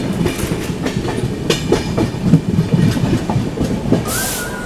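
The New Delhi–Sealdah Rajdhani Express rushes past near Kanpur Central with a loud, continuous roar and rhythmic clickety-clack of wheels over rail joints, a brief squeal near the end, heard close and without talk.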